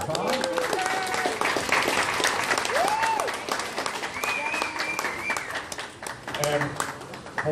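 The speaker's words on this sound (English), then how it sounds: "Okay, let's give them a round of applause." Audience applause at a contest awards ceremony, continuous clapping with cheers and scattered voices and whistles mixed in over the top, holding fairly loud for the whole stretch.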